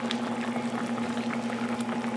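Salisbury steak gravy simmers over lowered heat in a pan, a soft steady bubbling hiss with a constant faint hum underneath and no voices.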